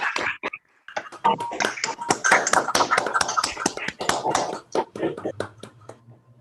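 An online audience applauds at the end of a physics seminar talk: scattered, uneven claps and taps from unmuted microphones pile up into a brief, dense patter, loud and close, with some talk mixed in.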